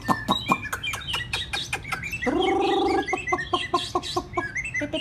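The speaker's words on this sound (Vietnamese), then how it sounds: "mới cầm vào lồng như này và không cần mái thì nó vẫn hót" Hwamei songbird singing in a hand-held cage, a fast run of sharp chirps and whistled notes with one sustained harsher call in the middle, close and fairly loud.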